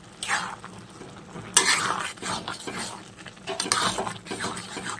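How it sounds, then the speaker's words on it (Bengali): Spoon stirring mung dal and bottle gourd curry in a cooking pot, a steady scraping and stirring with soft clinks against the metal, fairly close and moderately loud, with no voice. "একটু মিশিয়ে দিই, তাহলে ডালটা বয়েল হয়ে যাবে।"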